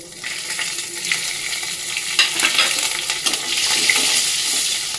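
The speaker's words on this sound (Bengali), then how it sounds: "মশলাটা ভাজা ভাজা হয়ে গেছে" Ground spices sizzle and crackle in hot oil in a pan along with slit green chillies, with occasional stirring scrapes; a steady, close frying hiss with no talking.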